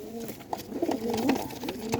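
A pigeon coos close by in a short, soft, rolling call that lasts about two seconds.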